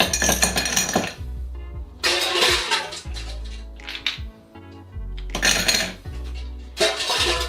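Ice cubes tumbling into a glass for a cocktail, loud clattering bursts repeated several times with brief pauses as scoops are added, close and alone.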